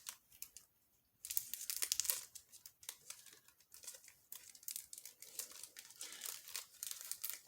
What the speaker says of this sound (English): let me take it out of the packaging if I can open it